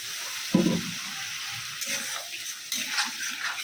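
Water poured into a pan of sizzling mustard curry with jackfruit seeds gives a brief splash and hiss, followed by soft, low bubbling and sizzling.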